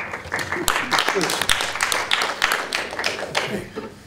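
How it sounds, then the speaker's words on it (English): Audience applause for a speaker at a panel discussion on the 2018 midterm elections, a burst of hand claps in a room lasting a few seconds, with voices mixed in. "It's the only applause I get in this room"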